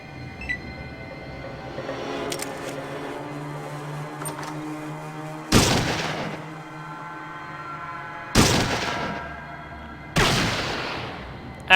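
Gunshots in the Fallout 2 video game ring out as three sharp, loud reports, each with a decaying tail, spaced a few seconds apart over a low background hum.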